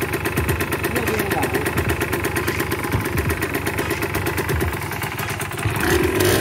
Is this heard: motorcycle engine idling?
yes